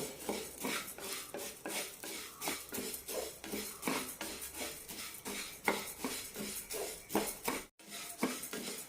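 Garlic and lentils dry roasting in a pan over low to medium flame for parippu podi, stirred continuously with a utensil scraping and clinking against the metal in a steady, busy rhythm; no talking.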